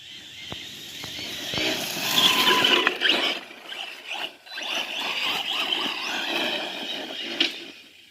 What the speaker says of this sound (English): you can kind of hear the tires ballooning out